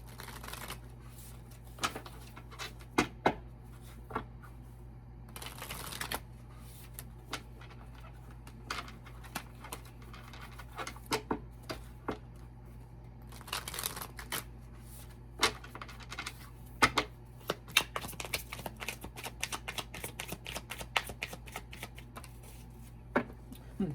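Tarot cards are shuffled repeatedly at close range, soft riffling and flicking bursts coming in uneven clusters over a quiet background hum.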